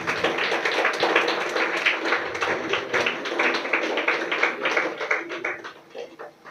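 Audience clapping at a school award ceremony for a skills competition final, a steady ragged round of applause from a crowd that holds for several seconds and thins out near the end.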